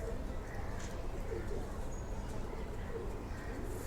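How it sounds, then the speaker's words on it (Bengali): Flying pigeons kept at home for two to three years coo softly in a low, steady murmur beneath a person talking nearby, with a faint bird chirp or two mixed in. "মাশাআল্লাহ কবুতরগুলো দেখুন"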